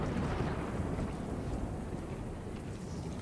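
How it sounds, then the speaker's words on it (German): Howling snowstorm wind in The Callisto Protocol, a steady broadband roar with gusty rumble and no distinct events. "Besser schnell raus aus diesem Sturm."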